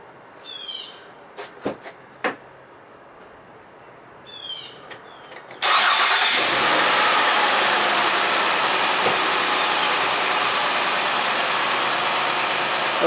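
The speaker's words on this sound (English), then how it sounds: "So let's start the engine" A car engine is started after a few quiet clicks and small knocks, catching suddenly into a loud steady broadband idle that holds evenly to the end.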